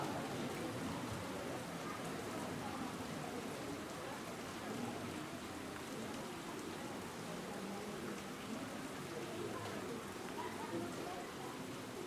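Steady rain falls continuously during an evening religious gathering, a dense, even hiss of drops on surfaces that stays constant throughout with no talk over it.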